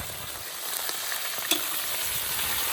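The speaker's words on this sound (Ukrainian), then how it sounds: "А тут перемішуємо, щоб не пригоріло." Plov ingredients frying in a kazan, a dense, even sizzle with a few light scrapes and one sharp knock of the spoon as they are stirred, close and steady, with no talking.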